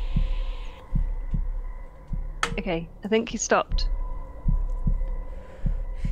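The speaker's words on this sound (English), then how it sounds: "I got a heartbeat." Steady, booming heartbeat thumps pulse at an even rhythm as a sound effect in a horror video game, with a voice briefly talking over it in the middle.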